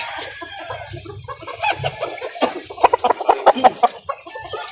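Chickens and roosters cluck and call at a breeder's farm in Calauan, Laguna, with a rapid burst of loud clucks building toward the end over a steady background hum.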